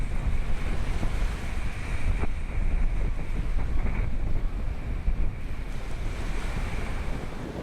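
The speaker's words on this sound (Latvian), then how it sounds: "Ārprāts, atkal sākās nākamā vētra." Storm wind and ocean waves surge around a sailing boat at sea, a dense, roaring, continuous wash with wind buffeting the microphone.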